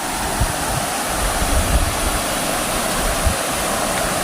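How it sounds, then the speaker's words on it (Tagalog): Creek water rushing steadily over large rocks, a continuous loud broadband roar close by with slight surges and no voices. "Sapa to siya, ito sapa."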